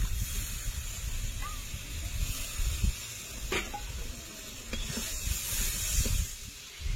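Steady close hiss of spice-rinse water hitting a hot pan of frying prawn masala, a continuous sizzle with faint bubbling and a few brief clicks, no talking.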